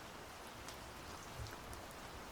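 Rain falls softly and steadily, a faint even patter of drops on a surface with no other sounds.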